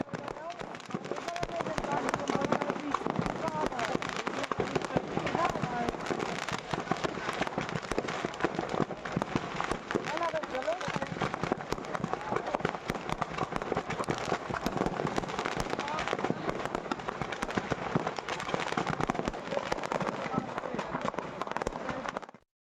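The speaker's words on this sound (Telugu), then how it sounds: "వెలుగులు చిమ్ముతూ ట్రక్కులోని బాణాసంచా సామాగ్రి పేలిపోయింది." Fireworks stock in a truck that caught fire on the road bursts in a dense, continuous stream of sharp crackles and pops, steady throughout under a speaking voice.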